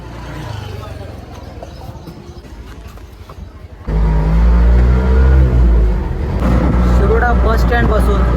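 An auto rickshaw carries passengers toward the Aravali temple in Sawantwadi: a quiet rolling hum at first, then the engine surges into a loud, close, steady rumbling drone with traffic noise, and voices may be present.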